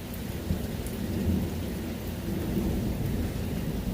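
A thunderstorm with steady heavy rain and a low, rolling rumble of thunder, continuous and enveloping throughout.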